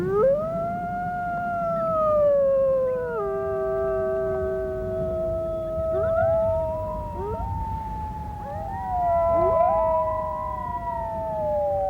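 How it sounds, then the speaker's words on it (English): Several wolves howling together in long overlapping gliding tones that rise and fall, clear and fairly near, with no talking. "of all the sounds in nature, I really believe that the wolf howl is the most evocative and the most mysterious"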